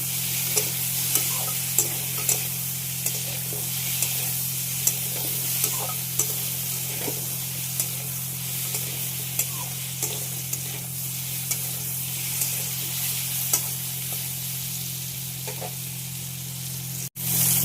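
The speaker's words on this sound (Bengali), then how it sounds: "এই সর্ষার তেলে একেবারে কালো জিরে ফোড়ন দিয়ে বসিয়ে দিয়েছি" Black cumin seeds spitting and frying in hot mustard oil in a pan, with a steady close sizzle, scattered small crackles and pops, and occasional stirring, no voices.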